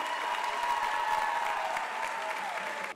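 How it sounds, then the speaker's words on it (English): A music academy audience applauds music students, a dense, steady wash of clapping mixed with light cheering that fills the room for several seconds. "Let's give you another round of applause because they need to bow."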